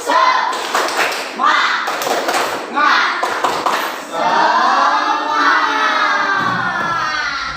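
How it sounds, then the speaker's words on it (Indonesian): Schoolchildren in a combined-grade classroom perform a rhythmic spirit clap, bursts of patterned claps and thumps mixed with their voices chanting along, loud and close. "mari kita tepuk semangat"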